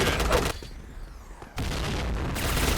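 Silenced P90 fire in the shooter game Point Blank: a dense burst, a brief lull with faint clatter, then another sustained stretch of rapid gunfire, moderately loud, with a voice faintly mixed in.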